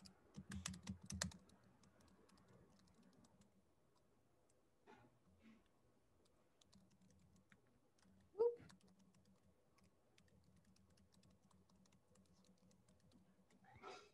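Someone types on a computer keyboard in a quiet room, producing scattered bursts of faint clicking keystrokes with pauses between them, and one sharper, louder click near the middle.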